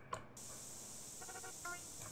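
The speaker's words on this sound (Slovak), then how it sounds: "Ja ho vysprejujem." A spray paint can hisses out graffiti in GTA San Andreas: a sudden, continuous bright spray starts after a short tap and holds steady, with faint game sounds and a brief voice underneath.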